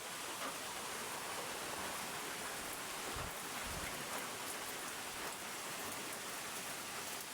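Steady rain falls on a rural countryside morning, heard from a terrace as an even, continuous hiss of drops at a soft, moderate level, alone and with no voices.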